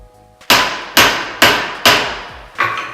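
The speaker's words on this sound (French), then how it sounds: "en lui tapant dessus avec un marteau" Silver wire being hammered on an anvil by a jeweller: five sharp ringing metallic strikes in an even rhythm, each decaying with a bright clang, loud and close, no talk.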